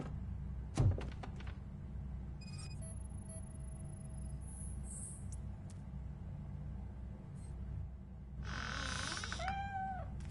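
Cat meowing in the video game Robocop Rogue City: a single short meow near the end comes after a sharp thump, faint high tones and a stretch of game ambience, with no talk.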